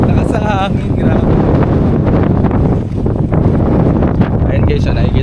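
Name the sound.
strong wind blowing at sea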